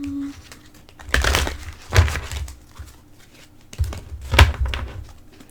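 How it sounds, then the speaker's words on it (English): A deck of oracle cards being shuffled by hand: bursts of papery riffling and soft thumps in two rounds, close and moderately loud, with quieter handling between. "let me shuffle the cards"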